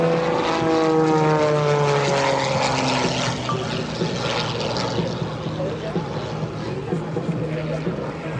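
An MXS aerobatic propeller plane flies at the EAA AirVenture airshow. Its loud engine drone is close and sweeps down in pitch as it passes, then fades to a steady rumble under an announcer's amplified voice.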